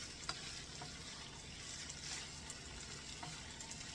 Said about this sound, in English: I'm going to mix the soup in.